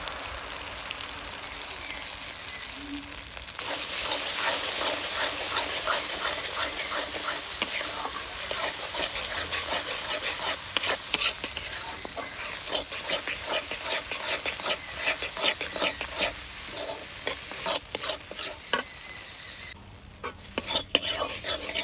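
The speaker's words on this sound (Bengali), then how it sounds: "অল্প একটু সময় ধরে পোস্তটা নাড়াচাড়া করে নেওয়ার পর" Mustard and poppy seed paste stirred in a pan over fried ginger paste, a spatula scraping and rasping steadily through a constant loud sizzle after a few quieter seconds.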